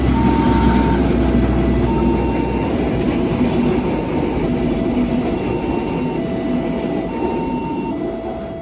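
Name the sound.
airport train or Pramex train at Tugu Yogyakarta station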